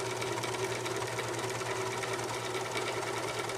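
A serger sewing machine stitches fabric with a fast, steady mechanical whirring and rattle, close and uninterrupted.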